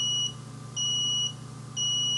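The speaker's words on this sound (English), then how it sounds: "Now you might hear a beeping sound when you click on this button." An Afinia 3D printer beeps during initialization, giving a steady repeating series of high, clear electronic beeps about every half second over a low constant hum.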